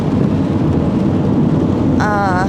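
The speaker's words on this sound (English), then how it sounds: "I hope that the rain stops" Steady heavy rain pours down outdoors in Iceland, a loud continuous wash of drops with a brief tonal whine rising in the final half second.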